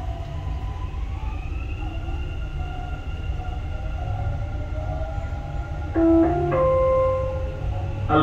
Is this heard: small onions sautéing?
no